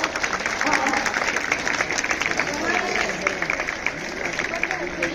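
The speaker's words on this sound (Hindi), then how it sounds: "जोरदार तालियों से हमारे सर का स्वागत करें।" An audience at a Republic Day stage event claps loudly to welcome a singer, a dense, steady patter of many hands with crowd murmur mixed in.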